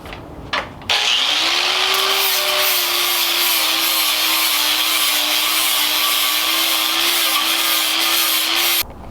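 Power tool grinding metal off the rails of a battery box in a Tesla-powered Vanagon: a sustained, loud, even abrasive whine with a steady pitch for about eight seconds, starting and stopping abruptly after brief handling clatter.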